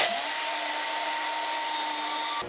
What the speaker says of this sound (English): So here's our trusty bandsaw